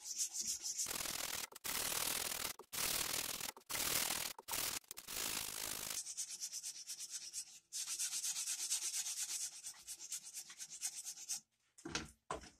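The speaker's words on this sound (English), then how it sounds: "So I can pretty easily sand with the grain by doing this." Steady abrasive sanding on a wooden coffee mug spinning on a lathe, loud and continuous with brief pauses, the sandpaper's rasp shifting in tone partway through.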